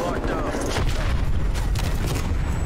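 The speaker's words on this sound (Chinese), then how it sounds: "跟住炸死啲人。" Dense, continuous gunfire and rumbling explosions fill a Call of Duty: Cold War online match, loud and close throughout, with players talking over the battle.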